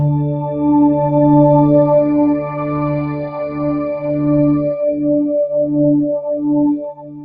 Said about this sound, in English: But the basic patch is a long swell.